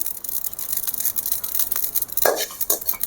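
Whole spices dry-roasted in a pan, stirred with light scraping and rustling, a soft hiss with a couple of sharper scrapes near the end, close and alone.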